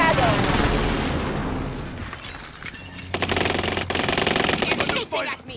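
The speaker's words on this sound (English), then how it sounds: "He's shooting at me!" Rapid automatic gunfire bursts from a Call of Duty: Modern Warfare match, loud and close, rattling in dense volleys over rumbling background noise in the second half.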